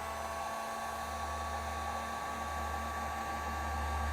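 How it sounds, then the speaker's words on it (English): A heat gun blows in a steady, even whir while shrinking heat-shrink tubing onto crimped trailer wiring for a 2020 Toyota Tacoma, close and constant without a break. "let's take that heat gun and shrink it down"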